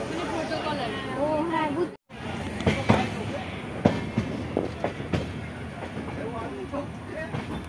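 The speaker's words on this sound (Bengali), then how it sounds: "ট্রেন ছেড়ে দিল এখন" A passenger train pulls out, its wheels clacking and knocking in irregular thumps against a low rumble from inside the carriage, with people chattering nearby; a brief dropout breaks the sound early on.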